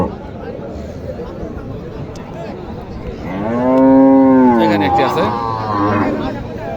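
A Holstein Friesian cow lets out one long, loud moo at a cattle market in Naogaon. Market chatter and nearby voices continue around it.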